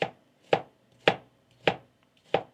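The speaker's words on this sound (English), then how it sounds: "First thing we need to do is just cut up this onion" A knife chops an onion on a cutting board, five sharp, evenly spaced thuds about half a second apart, close and clear with quiet between strokes.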